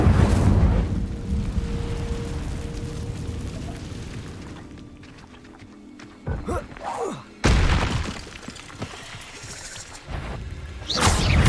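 An Incendio fire spell cast in Hogwarts Legacy opens with a loud whooshing burst, followed by rumbling, crackling impacts and scattered thuds that swell again toward the end.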